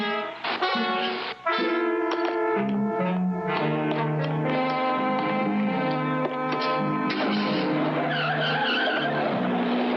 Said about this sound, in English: The two head off in Powers' new unfinished kit car